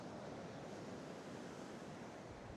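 Surf breaking on Man Sands beach under moody clouds, a steady broadband wash of waves with some wind noise, continuous and fairly close, no voices.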